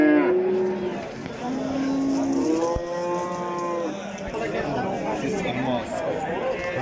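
Cattle low repeatedly at a busy livestock market in Asaka, long drawn-out moos rising over a steady crowd chatter with people talking nearby.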